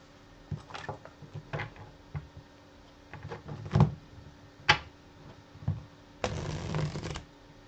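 Tarot cards are shuffled close up in scattered soft riffles and taps, with a few sharper snaps and a longer continuous riffle near the end, otherwise quiet.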